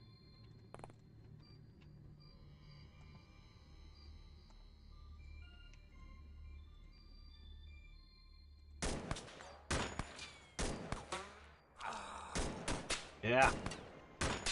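A .50 cal machine gun firing in the XCOM video game, starting with quiet ambience and then breaking into loud, heavy bursts of shots with echoing impacts, while a voice speaks briefly.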